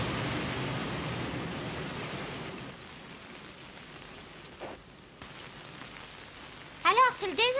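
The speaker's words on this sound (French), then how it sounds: "On dirait que la pluie tombe moins fort." Steady rain falling in an animated children's seaside scene, a dense continuous hiss that eases after a few seconds and fades lower, with a brief voice entering near the end.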